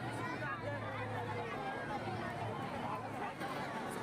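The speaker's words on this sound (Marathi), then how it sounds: "हे बघा किती गर्दी आहे बघा" Dense crowd babble fills the Diva Mahotsav 2024 fair, with many overlapping voices and footsteps forming a steady, moderately distant hubbub that never pauses.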